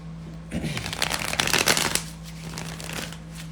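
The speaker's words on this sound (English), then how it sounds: "One more shuffle." A deck of tarot cards being shuffled close up, a quick riffling burst of card flutter that swells then settles into softer handling, with a steady low hum underneath.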